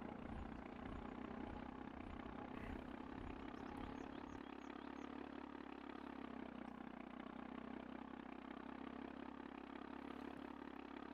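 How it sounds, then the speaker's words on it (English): Tractor engine in a farming video game drones steadily and continuously at low volume, a constant mechanical hum with a brief shift in tone partway through and no talking. "I hear my tractor runner, which isn't good because I'm pretty low on gas."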